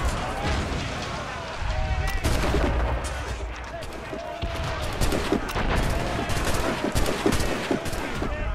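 Gunshots in the video game Assassin's Creed Rogue Remastered ring out over a dense, continuous battle din, with heavy booming blasts and repeated sharp reports, loud throughout.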